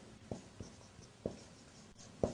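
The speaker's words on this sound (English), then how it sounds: "I will write down." Chalk or marker writing on a board in a classroom, a few faint scratchy taps and strokes spaced irregularly, quiet and close with room hiss behind.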